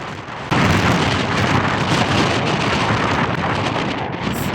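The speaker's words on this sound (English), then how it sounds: "सुन सकते हो ये आवाज़ ये जो हवा है, हमारे पूरे ट्रिप पे ये हवा, ये विंड चली है जैसे कि तूफान आया हो." Strong wind at Brighton Beach roars loudly into the microphone, a dense gusty rush that starts abruptly and stays close and continuous throughout.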